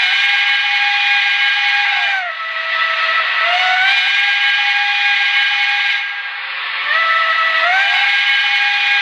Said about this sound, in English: So let's check it out, and I'll play both the regular whistle and the quilling whistle.